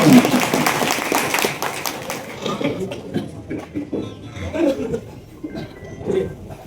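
A crowd at a Samajwadi Party office meeting claps to welcome a speaker, loud applause at first that thins out after about two seconds into scattered claps, with voices talking over the remainder.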